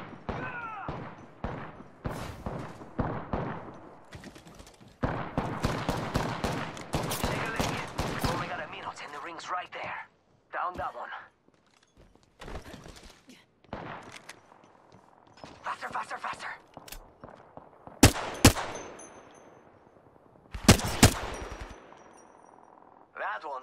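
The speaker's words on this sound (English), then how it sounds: "They're shooting at me." Automatic weapons fire in Apex Legends gameplay comes in loud, repeated bursts of rapid shots, with gaps between volleys and a few heavy thumps and sharp cracks near the end.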